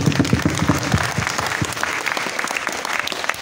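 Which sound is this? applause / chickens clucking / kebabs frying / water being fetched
applause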